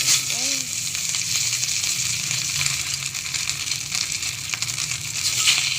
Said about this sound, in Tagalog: Saka natin ilagay yung ating ipiprito.